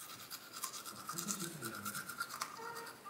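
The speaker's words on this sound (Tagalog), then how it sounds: "Ikaw nga lang, try mo. Ikaw mag-toothbrush." Toothbrush bristles scrub steadily against teeth, close and soft, in a quick back-and-forth scratching rhythm.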